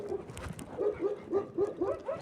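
Several dogs barking at a distance, a series of short, evenly spaced yips and barks that grow quicker toward the end, heard faintly over quiet outdoor background.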